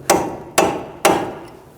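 Hammer striking a cold chisel to peen over an axle nut after a CV axle replacement on a 2002-2006 Toyota Camry: three loud, sharp metallic blows about half a second apart, each with a brief ringing decay, close up.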